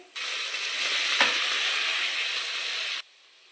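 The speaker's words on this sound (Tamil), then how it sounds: "தக்காளி நல்லா வதங்கி வரட்டும்" Tomatoes sautéing with onions and curry leaves in oil in a pan, a loud, steady sizzle that starts abruptly, holds for about three seconds with a brief stir, then cuts off.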